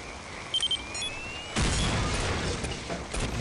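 Explosion going off in the Counter-Strike: Condition Zero game, a sudden broad blast after brief electronic beeps, followed by a sustained rumbling roar that tails off over a few seconds.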